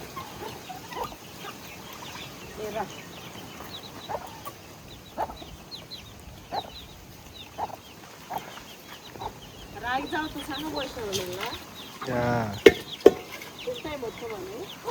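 Small chickens clucking on a farm while being fed, with soft, scattered chirps and clucks that come and go at a moderate distance under faint background voices and outdoor noise.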